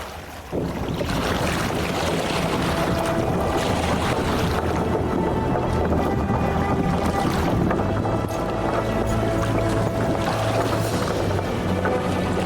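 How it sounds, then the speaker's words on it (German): A sailing ship at sea in the video game The Witcher 2, a steady, loud wash of wind and rushing water with a low rumble that carries on unbroken, with no voices. "Wir segeln los!"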